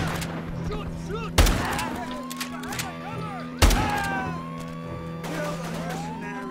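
Gunfire bursts out in the video game Mercenaries 2: World in Flames, with two sharp shots standing out over a busy background of game sounds and voices.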